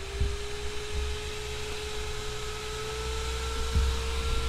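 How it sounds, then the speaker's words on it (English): A loud electric fan runs at its proper voltage, giving a steady whirring drone with a constant motor tone and low rumble that continues without pause. "That's my fan running on the voltage that it's supposed to run on."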